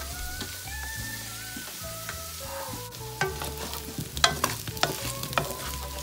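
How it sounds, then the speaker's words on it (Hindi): Potato pieces frying golden in hot oil hiss steadily under background music, with clattering stirs and pops growing busier toward the end. "आलू को भी हम अच्छे से फ्राई करके ले गए गोल्डन कलर आने तक।"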